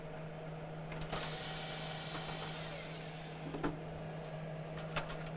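A screwdriver works the two Phillips mounting screws loose from a Hotpoint refrigerator's defrost heater, giving a close, steady whirring grind of about a second and a half followed by sparse clicks and small taps.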